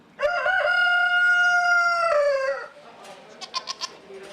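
A rooster at a county fair gives one loud, close crow with a long sustained middle and a falling end, followed by a few softer clucks and chirps in the background.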